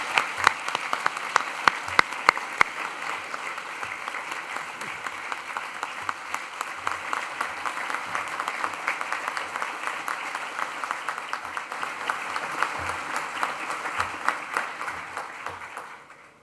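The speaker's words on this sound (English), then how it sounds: "please join me in a huge round of applause for our fantastic lecturers, technical and support staff" Sustained applause from a large crowd fills a university graduation ceremony hall, steady and dense with no voices, fading out at the very end.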